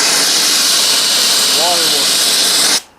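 Steam hissing steadily and loudly from a valve opened on a steam boiler, a broad continuous rush that cuts off abruptly near the end, with a brief voice in the background.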